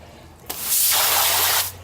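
A hose sprays water over pond equipment outdoors in winter: a sudden hissing gush starts, runs strongly for about a second, then cuts off.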